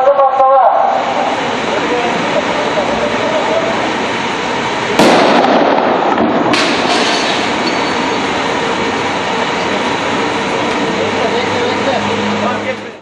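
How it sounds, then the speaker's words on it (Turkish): A sharp, loud blast rings out midway as a suspicious cooking pot is detonated by remote-controlled fuse, followed by a second smaller crack, over a continuous rushing background noise. "bomba imha uzmanı, tencereyi uzaktan kumandalı fünye ile kontrollü olarak patlattı"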